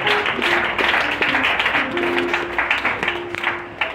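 A church congregation applauding in praise, steady close clapping with a sustained sung or hummed tone running beneath it.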